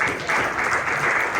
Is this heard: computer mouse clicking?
no